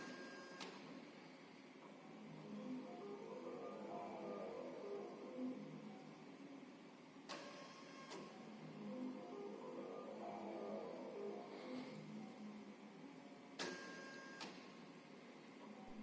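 An automatic insulation ring marking machine with an inkjet marking head runs steadily, giving a continuous mechanical hum with soft rhythmic swells and three sharp bursts spaced about six seconds apart.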